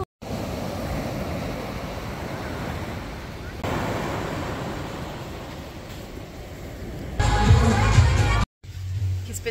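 Winter sea waves on the Ligurian coast wash in with a continuous roar, heavy wind buffeting the microphone and surging louder toward the end.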